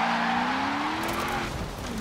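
Racing car from Forza Horizon 4 driving with a steady engine drone and a rising tonal whine of tire squeal, continuous and fairly close, no talking.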